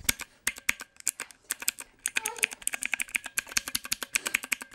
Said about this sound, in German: Das hört sich an wie bei einer alten Schreibmaschine.